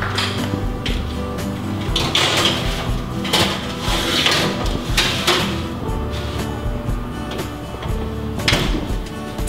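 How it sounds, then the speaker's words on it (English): A baking tray of homemade kale chips goes into an oven at 350 degrees: a series of clanks, metallic knocks and door thuds at a steady pace, fairly close, with light background hum. "So I'm gonna pop this into the oven."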